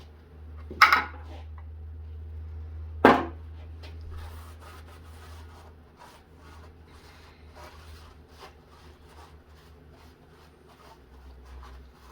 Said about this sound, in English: all I'm doing is taking my little pry bar, sticking it underneath the gasket, and prying up